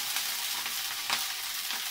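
Minced cabbage roll mixture sizzles steadily in a frying pan, a continuous hissing crackle with occasional louder pops, close and unaccompanied by talk.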